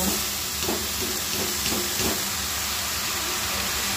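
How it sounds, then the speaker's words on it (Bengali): Drained boiled cabbage dry-frying in a hot pan with no oil gives a steady, broad steaming hiss, with a few soft stirring scrapes throughout. "এরপর আমি এর মধ্যে বাঁধাকপিটা যেহেতু জলটা ঝরিয়ে রেখেছি, একটু ভেজে নেব।"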